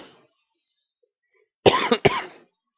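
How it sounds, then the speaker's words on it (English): A couple of sharp, close coughs in quick succession break an otherwise quiet stretch, loud and dry with a brief gap between them, from someone talking over college basketball picks. "Sorry about the coughing again."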